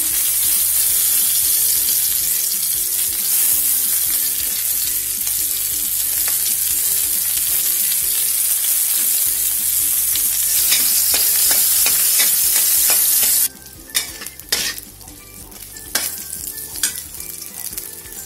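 Garlic with red and green chilies stir-frying in a pan, a loud continuous sizzle with scraping stirs of the spatula, dropping briefly quieter near the end before the frying resumes.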